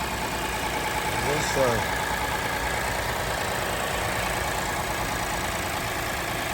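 A Lexus IS 250 engine runs steadily after a valve cover replacement, a constant mechanical hum with a short swell as throttle is given, while someone briefly speaks over it.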